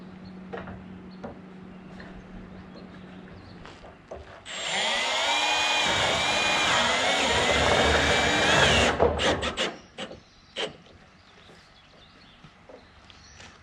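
A power drill drives a self-tapping, powder-coated screw with a rubber washer into metal wainscot, a single loud sustained whir of about four seconds, rising then stopping, with clicks and light handling noise before and after.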